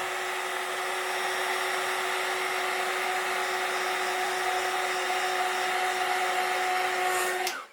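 A heat embossing tool blows hot air over embossing powder on a handmade card. It gives a steady, close, loud whirring blower drone with a high whine that holds unbroken for several seconds, then cuts off abruptly at the end.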